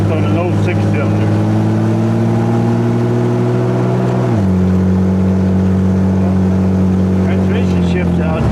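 A loud, throaty split exhaust on a 1927 Hudson six-cylinder drones close by, holding a steady pitch before dropping as the gear changes, with some talk mixed in.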